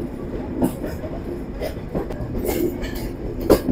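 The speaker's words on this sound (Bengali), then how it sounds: "আমরা পোড়াদহ জাংশন রেলওয়ে স্টেশন থেকে ডিপার্চার নিচ্ছি" Intercity Chitra Express pulling out of Poradah Junction at night, a steady close rumble of wheels on rail with faint clicks and brief squeals rising over it throughout.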